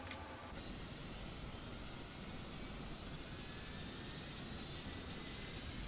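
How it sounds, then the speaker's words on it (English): A PMDG 777-200ER right jet engine spools up in the MSFS 2020 flight simulator, a steady loud broadband rumble with a faint whine slowly rising in pitch. "Let's go ahead and start up engine. Number 2, right engine."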